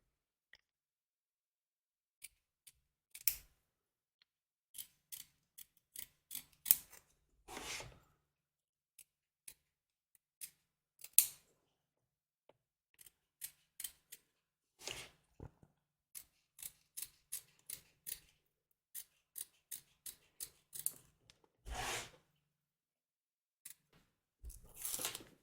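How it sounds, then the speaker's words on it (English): Scissors snip around a paper Easter treat bag: sparse, quiet, close-up cuts in short irregular bursts, separated by long silent stretches. "When you cut around here, take care not to cut your strap off."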